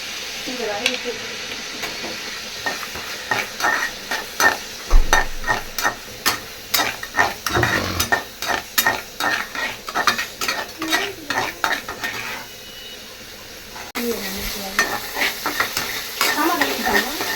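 A handful of onions fries in a pan while being stirred, giving steady sizzling with repeated rhythmic scrapes and clinks of a spoon against the metal as part of a Tamil mutton liver dish; a voice is briefly heard.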